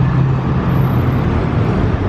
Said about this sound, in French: La nouvelle McLaren GT qui descend sûrement se faire nettoyer ou faire le plein.